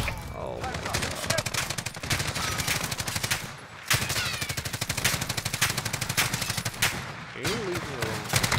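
Rapid, loud bursts of automatic gunfire from Call of Duty: Modern Warfare, with dense rattling volleys broken by brief pauses and swelling again, close and continuous.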